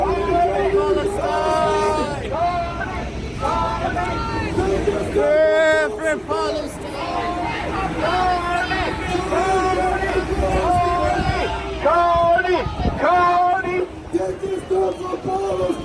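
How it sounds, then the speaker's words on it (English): A protest crowd chants loudly in rhythmic unison outdoors, repeated shouted phrases rising and falling, with voices and general commotion mixed in. "the pro-Hamas crowd is here chanting genocide"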